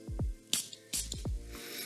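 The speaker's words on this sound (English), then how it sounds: "Nice spray also." A Bound for Men fragrance bottle with a cheap-feeling atomizer gives several short, crisp spray bursts in quick succession, close and fairly quiet, with soft clicks from the nozzle between them.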